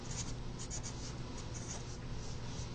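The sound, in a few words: writing out an equation by hand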